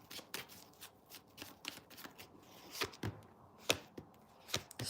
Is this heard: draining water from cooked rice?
no